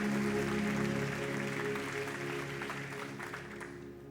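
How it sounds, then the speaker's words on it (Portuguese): A church congregation claps together in a dense, steady burst of applause that gradually fades over a few seconds. "Você pode aplaudir ao Senhor?"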